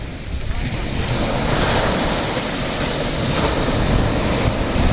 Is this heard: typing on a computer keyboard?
no